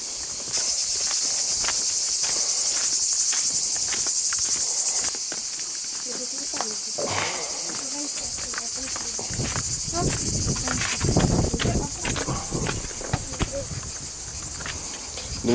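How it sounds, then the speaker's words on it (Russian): Loud cicadas drone steadily at the scene in Greece's Meteora area near Kalambaka, a dense continuous high-pitched buzz running throughout, with footsteps and faint voices underneath. "Цикады какие"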